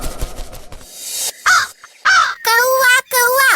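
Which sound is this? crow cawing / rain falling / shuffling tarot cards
crow cawing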